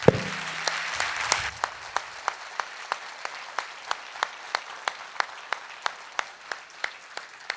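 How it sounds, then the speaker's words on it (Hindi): An audience at a talk by India's sports and youth minister gives students a brief burst of full applause, which then thins into evenly spaced, rhythmic single claps continuing steadily. "एक बार सभी जो हमारे विद्यार्थी बैठे उनके लिए जोरदार तालियां"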